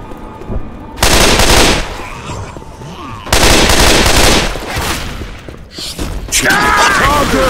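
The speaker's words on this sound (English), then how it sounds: "Machine gun." Left 4 Dead 2 machine gun fire in loud sustained bursts, three long rattling volleys separated by brief lulls of echoing combat noise, close and dominant throughout.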